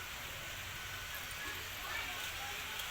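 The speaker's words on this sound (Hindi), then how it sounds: "देखो अभी इतनी ज़्यादा बारिश हो रही।" Heavy monsoon rain in a Uttarakhand village pours in a dense, steady hiss that holds evenly for the whole stretch, with no breaks or separate drops standing out.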